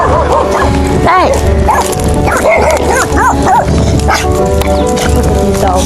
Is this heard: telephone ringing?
no